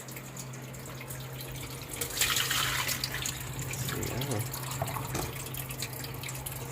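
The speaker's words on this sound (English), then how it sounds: "So when it's draining, it's actually pulling the water through the propeller itself." Water draining out of a portable washing machine, pulled through its propeller, with a trickling, splashing gurgle that surges briefly then continues steadily; a voice speaks a few words over it.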